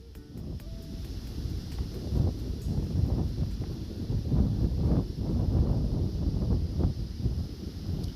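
Steady roaring high wind buffeting a DJI Mavic Air 2 drone in flight, a continuous broadband rush with gusting swells and no voices, fairly loud throughout.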